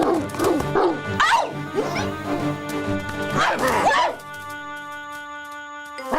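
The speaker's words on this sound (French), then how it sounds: "Bon sang, ils ont des chiens." Several cartoon dogs bark and yip excitedly in a rapid burst, fairly close, then fall away to a lingering tonal hum.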